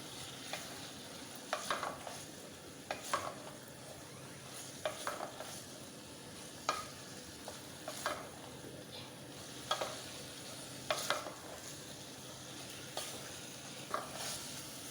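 Minced meat (keema) frying in a pan after ginger and garlic, with a soft continuous sizzle and repeated light scraping stirs of a utensil against the pan, fairly faint and close.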